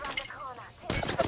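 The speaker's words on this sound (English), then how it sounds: "It's the Kraber." Kraber sniper rifle shot in the Apex Legends battle royale video game, a sharp loud crack that bursts in near the end after quieter game sounds.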